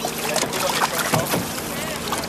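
A boat on the Danube moves through water with steady broadband wash and splashing, a voice speaking over it.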